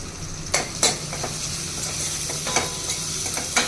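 Vegetables being fried and stirred in a pan with turmeric, a steady sizzle broken by several sharp spoon-against-pan scrapes and clinks, close and fairly loud with no talking.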